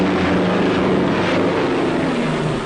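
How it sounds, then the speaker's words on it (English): Low-flying bomber aircraft attacking a convoy in wartime, a dense, loud, continuous engine and propeller roar with a droning low hum filling the whole stretch. "the convoy is being attacked by low-flying bombers"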